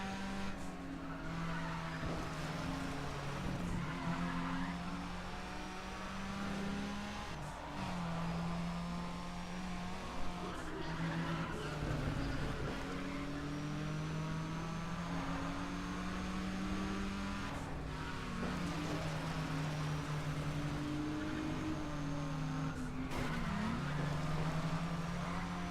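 Race cars lapping in Need for Speed ProStreet, engines rising and falling through repeated gear changes with tire squeal, a continuous moderately loud game soundtrack with no talk.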